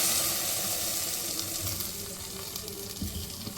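Hot tempering poured onto Hyderabadi khatti dal bursts into a loud, hissing sizzle that slowly settles into a steady crackling fizz, with faint clinks underneath.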